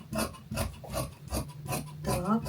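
Fabric for trousers is being cut along the waistline in a quiet, close rhythm of rasping strokes, roughly two or three per second, with no talk.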